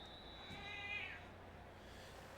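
A cat lets out one drawn-out, wavering meow near the start, soft and close against a low, quiet background hum.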